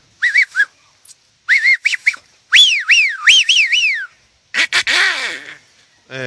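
A hunter imitates the zeiha bird's call by mouth, whistling short chirps and then longer rising-and-falling swoops in quick groups, with a rougher, breathy burst near the end, close and loud with silent gaps.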